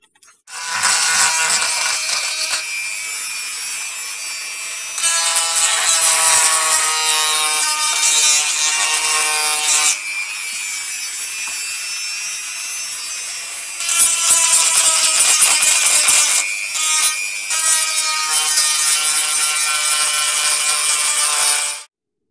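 Abrasive tool roughing up a Ruger 10/22 rifle stock for bedding, a sustained loud high-pitched grinding buzz in several long passes with short breaks, close and without speech.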